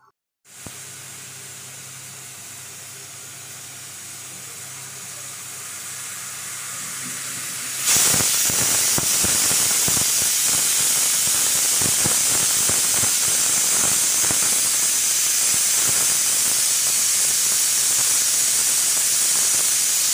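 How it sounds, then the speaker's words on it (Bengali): A pressure cooker on a stove, boiling vegetable stems: a steady low hiss builds for several seconds, then the whistle bursts out loud and sustained, a harsh continuous jet of steam to the end. "একটা সিজ দিয়েছে"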